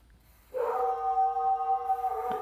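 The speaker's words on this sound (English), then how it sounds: "It's my dog Winston making all that noise" A dog howls in one sustained, wavering tone that starts after a short quiet pause and carries on steadily to the end, loud and fairly close, with no talking.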